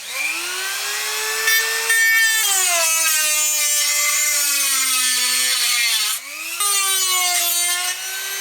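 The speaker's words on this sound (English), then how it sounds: "You know, I am going to cut a notch for this battery lead just to kind of sit down in here. Let's get out that Dremel again." A Dremel rotary tool cuts a notch for a battery lead in a Kyosho Blizzard SR RC snow vehicle, giving a steady, close, high-pitched whine whose pitch sags under load and briefly dips near the end before recovering.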